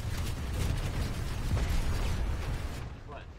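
A grenade blast in the shooter game Planetside 2 during an alert battle: a broad, rumbling burst that fills the clip for about three seconds, then trails off, with a voice faintly talking in the mix.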